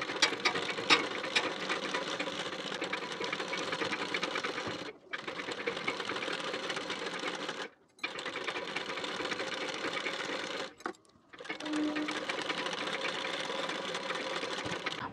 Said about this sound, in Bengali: নিয়ে এর উপর থেকে সেলাই দিয়ে নেব।